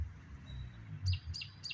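Three short, bright bird chirps ring out from high in a tree, spaced evenly and fairly faint, over a low breezy outdoor rumble.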